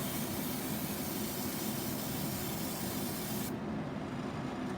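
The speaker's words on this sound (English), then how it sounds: "So you want to make sure that you're doing light coats, which the airbrush will do for me." An airbrush spraying light coats of paint over a stencil gives a steady, soft, close hiss that keeps an even level throughout, with its upper airy edge dropping away near the end.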